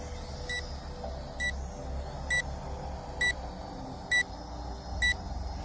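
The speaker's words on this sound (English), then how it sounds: "I hate the annoying beep though." A Neheme NH760 drone in headless mode emits six short, identical electronic beeps at a regular pace, about one per second, sharp and clear above a faint, steady background hum.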